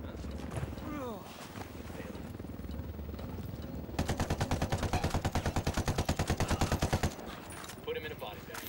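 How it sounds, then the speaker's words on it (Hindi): Automatic gunfire rattles in the video game Ghost Recon Wildlands, a long rapid burst of evenly spaced shots following a stretch of game noise, with players talking over it. "गन मार दी"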